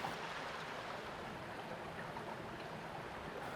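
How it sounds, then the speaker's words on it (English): River water flows over the surface in Manifold Valley, a soft, even rushing hiss that stays faint and unbroken throughout. "The river is back up running on the surface once again."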